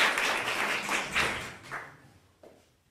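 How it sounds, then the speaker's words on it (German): Audience applause welcoming a guest composer at an evening concert-talk event, a dense wash of clapping that swells and fades over about two seconds, followed by a brief sharp tap near the end. "Ein Applaus."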